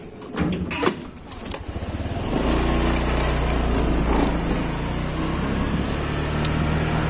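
A small motorcycle engine hums steadily and fairly close during a night ride in the Philippines, building from a few rattles into a continuous drone.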